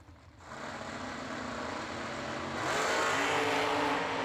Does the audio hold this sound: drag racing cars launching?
yes